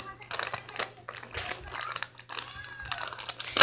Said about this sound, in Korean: 일단은 뜯어볼게요.